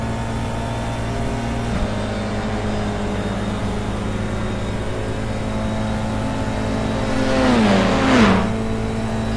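FIA F4 race cars in the iRacing sim give a loud, steady engine whine that holds constant, then shifts pitch near the end as another car sweeps close past with a brief rising-and-falling swoosh.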